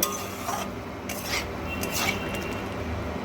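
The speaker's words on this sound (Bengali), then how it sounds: "যাতে তলা থেকে লেগে না যায় সেই জন্য কিন্তু এখানে সামান্য একটু জল অ্যাড করে কষাচ্ছি" Spice paste with vegetables and a splash of water being stirred and sautéed in a pan while cooking pabda fish in oil and chilli, a soft continuous scraping and rubbing with a few faint spatula strokes.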